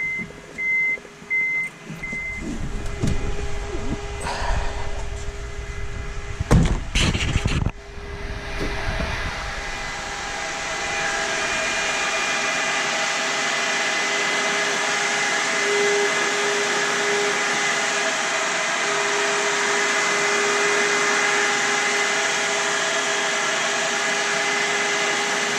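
A Mitsubishi Galant VR-4 radiator cooling fan kicks on with a few clunks and then settles into a steady, loud whooshing whir that continues unbroken for the rest of the clip.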